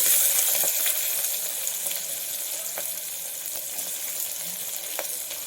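Chopped onions with green chillies and curry leaves fry in a pan with a steady, close crackling sizzle, marked by occasional louder pops.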